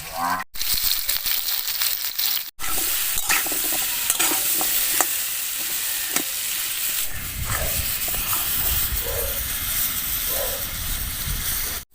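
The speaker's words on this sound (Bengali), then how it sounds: "এইদিকে আমি মিনিট 5 ধরে আমড়াগুলো একটু তেলের সাথে কষিয়ে নিয়েছি।" Hog plums (amra) sauté in oil with turmeric and a little salt, a dense steady sizzle with repeated stirring scrapes, briefly broken by short gaps and shifting to a softer, bubbling fry later.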